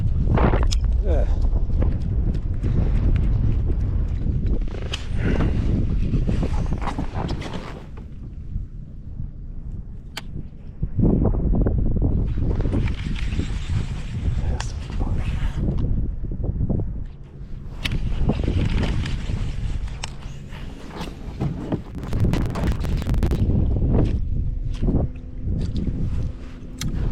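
Gusty wind buffeting the microphone outdoors on the California Delta while bass fishing, loud rumbling blasts that surge and ease in waves across the whole stretch.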